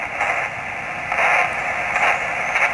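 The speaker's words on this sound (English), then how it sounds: "you can definitely hear the difference in the receive signal when I move that rotating motor on the antenna" Receive noise from a ham radio connected to an F-loop antenna, a steady broadband hiss that swells and fades slightly as the loop's rotating motor tunes it, with no voices.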